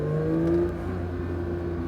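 A Porsche 911 GT3 on the Castellet circuit accelerates hard, its engine droning steadily and close with rising harmonic tones throughout, no voices present.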